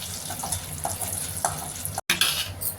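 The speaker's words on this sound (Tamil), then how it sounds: "போட்டுட்டு நல்லா மிக்ஸ் பண்ணிக்கலாம்." Turmeric powder being stirred into lemon rice tempering in a pan, with steady frying sizzle and repeated soft scrapes of a spoon, close and moderately loud, with a brief gap near the end.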